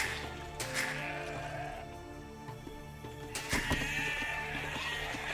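A scouting sheep bleats in the strategy game Age of Empires II, two bleats heard over a busy background of game music and unit noise.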